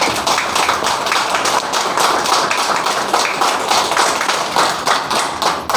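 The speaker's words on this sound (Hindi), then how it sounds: "तो वैसा गुरु लोग के लिए, मेंटर लोग के लिए एक बार जोरदार ताली होना चाहिए।" An audience at a DXN family meeting in Ranchi district claps for the mentors in loud, sustained applause, many hands clapping densely and continuously.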